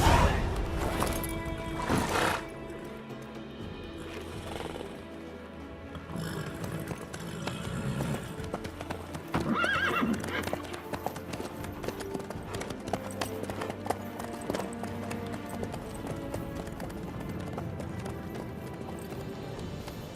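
Horse hooves in The Witcher 3 beat out a steady clip-clop over rough ground for a long stretch, loud and close, with occasional clatter and ambient game sound.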